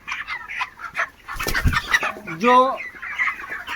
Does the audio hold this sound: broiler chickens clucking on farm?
yes